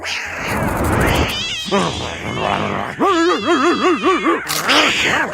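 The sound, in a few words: cat meowing in Family Guy cartoon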